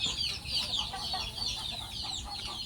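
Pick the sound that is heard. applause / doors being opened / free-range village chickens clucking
free-range village chickens clucking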